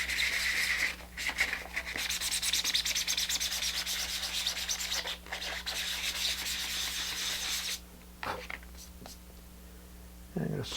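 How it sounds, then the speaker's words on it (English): Close, scratchy hand sanding with 220-grit sandpaper on a model rocket kit surface: rhythmic back-and-forth rubbing strokes with a few brief pauses. The sanding continues alone, with no one speaking over it. "just keep sanding. And this is 220 grit."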